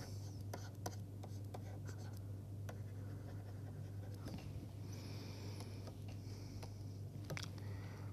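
Hand-writing during a management engineering lecture, with faint, scattered pen or marker strokes in short taps and scratches over a steady low electrical hum.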